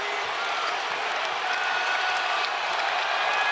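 A basketball crowd at a Kentucky vs Louisville game roars and applauds on its feet, a dense, sustained wash of cheering throughout.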